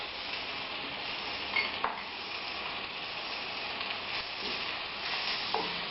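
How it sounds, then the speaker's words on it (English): Garam masala being stirred into frying garlic paste and tomato for chicken biryani, a steady close sizzle with occasional spoon scrapes and taps against the pan. "And again mix it."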